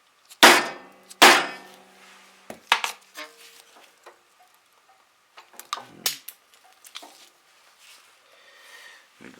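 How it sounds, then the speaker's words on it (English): A dead blow hammer strikes twice with hard, sharp blows on concrete, followed by several lighter knocks and taps scattered through otherwise quiet surroundings. "So we're going to use a dead blow hammer."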